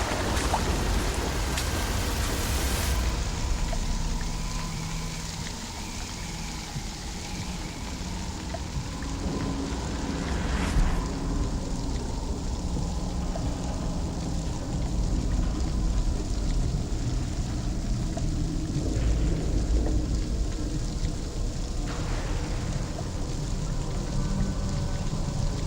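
Heavy rain pours steadily and densely throughout, with a low rumble of thunder underneath, a constant loud wash of water with no pauses.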